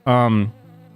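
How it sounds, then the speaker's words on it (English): Bees buzzing loudly and close for about half a second, a dense harmonic drone that then drops to a faint, lower hum. "the bees are still here"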